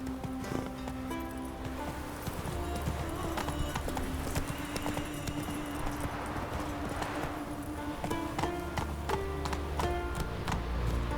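Hooves of Roach, the horse in The Witcher 3, clip-clop in a steady rhythmic trot throughout, moderately close, over a continuous low game ambience.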